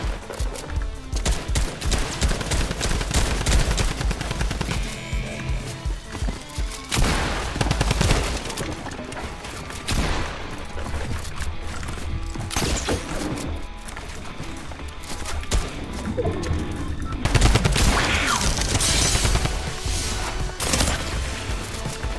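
Rapid bursts of drum gun fire in Fortnite Chapter 2 Remix, dense and loud, with repeated volleys and short pauses throughout, alone without talk.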